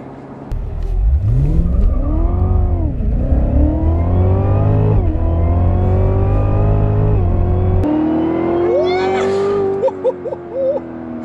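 A 649 hp 2016 Cadillac CTS-V pulls away in sport mode, its engine loud and close as it revs up repeatedly through the gears with rising, falling tone, then settles into a steady drone.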